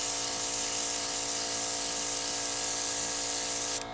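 An airbrush sprays corn silk yellow paint onto a doll, a steady close hiss that runs without a break before cutting off abruptly near the end.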